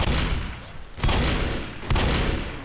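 Gunfire in Left 4 Dead, likely sniper rifle pot shots: two sharp, loud reports about a second apart, each ringing out over a dense, noisy game background.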